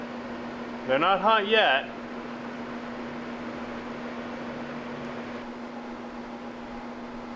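A furnace blower fan in a shop runs with a steady, even rush of air and a low, constant hum, while someone briefly speaks over it near the start.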